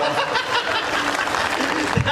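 Applause rises from the audience at a Hindi comedy poetry show, mixed with chuckles and light laughter. It sounds dense and sustained across the whole moment, with a brief thump near the end.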